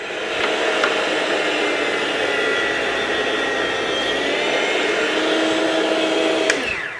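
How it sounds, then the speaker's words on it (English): An electric meat slicer cuts thin slices of meat for tacos árabes, making a loud, steady motor whine and whir that holds unbroken throughout, with a faint scrape near the end. "if you don't have a meat slicer like this, you can do it with a knife"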